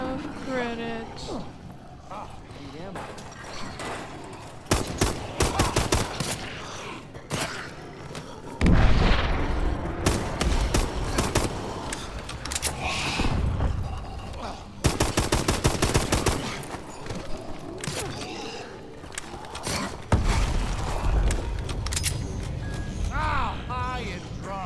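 Rapid bursts of AK-12 automatic fire in a Call of Duty game, loud and close, with booms and explosions mixed in and a player's voice talking over the gunfire throughout.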